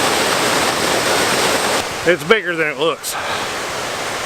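Steady rushing roar of Gentry Creek Falls, close and loud, with someone speaking briefly over it midway.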